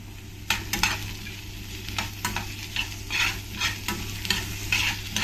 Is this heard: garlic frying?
yes